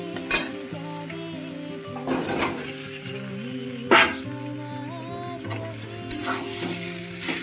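Cauliflower and potatoes frying in spices in a pan, stirred with a utensil: a steady sizzle with scraping and clinking strokes at intervals, close and fairly loud, no talking.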